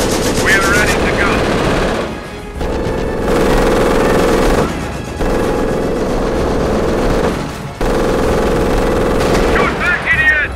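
Continuous machine-gun fire and gunshots in a Company of Heroes Blitzkrieg 3 vs 3 battle, loud and sustained, with brief lulls, engine noise and in-game voice callouts on top.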